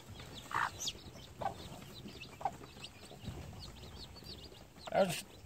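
Newly hatched USA gamefowl chicks in a pen give faint, scattered peeps and cheeps, a few brief calls standing out over low background noise while someone talks nearby.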